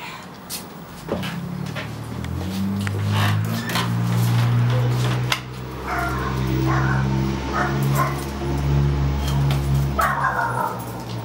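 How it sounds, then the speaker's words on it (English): Dogs barking and yipping outdoors during a walk with a baby, several moderately distant barks and whimpers spread over steady low rumbling background noise. "someone hears doggies"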